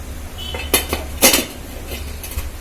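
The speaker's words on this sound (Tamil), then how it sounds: "இந்த நேரம் நம்ம தூக்கி இந்த புட்டை உள்ளே வச்சிடலாம்." Pots and pans clank and clink near the mic as millet puttu goes into a steaming pot, with a few sharp metallic knocks against a low boiling rumble and no talk.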